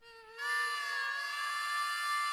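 A mosquito's high, steady whine drones close and loud for a couple of seconds, swelling slightly at first and then holding an even, insistent buzz with no voices.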